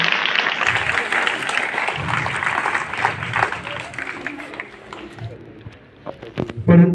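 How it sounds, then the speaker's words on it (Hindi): An audience at a college career guidance event gives dense, sustained applause that slowly thins toward the end, with a few voices and a louder knock at the close. "जोरदार तालियों से स्वागत।"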